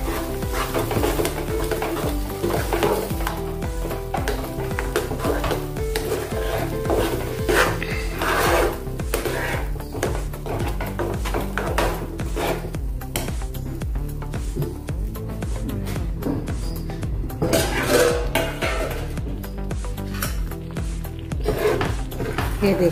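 A spoon stirs potato and bottle gourd sabzi in a pan, giving a steady loud scraping and sizzling with constant rubbing against the metal throughout.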